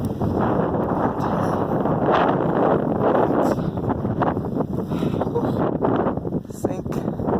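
Strong wind from a North Dakota blizzard at 13°F buffets the microphone in a loud, continuous roar and rumble, with a person trudging through snow.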